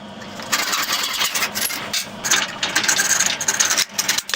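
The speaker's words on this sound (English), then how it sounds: "you're going to cut it right here, about a 1/2 inch past your last one and a 1/2 inch past that one. And I'm just using a finished wood saw." A finish wood saw cuts through a plastic socket rail in quick, steady back-and-forth rasping strokes that are close and fairly loud, with no voice.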